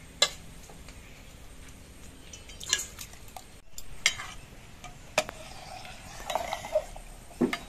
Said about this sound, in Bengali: জলটা একটু গরম হয়ে যাওয়ার পর এর মধ্যে চালগুলোকে দিয়ে দিচ্ছি।